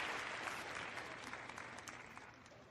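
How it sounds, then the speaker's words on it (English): Faint audience applause fills the short stretch at the end of a show, a steady wash of clapping hands with no voices. "Statman, can we give everybody a hand clap for today's show?"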